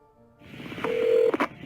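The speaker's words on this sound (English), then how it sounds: "And then 911 was dialed." A telephone keypad dials an emergency number in a short run of DTMF tones, one long steady tone followed by two quick beeps, over a faint background.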